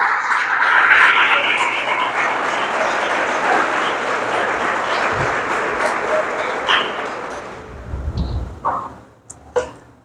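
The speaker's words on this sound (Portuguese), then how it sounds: "Dê uma salva de palmas para o Senhor." A church congregation applauding during a sermon on the parable of the sower, a broad wash of clapping that holds steady, then thins out and fades, with scattered voices and a few isolated claps at the end.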